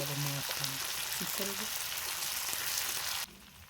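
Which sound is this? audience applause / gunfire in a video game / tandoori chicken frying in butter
tandoori chicken frying in butter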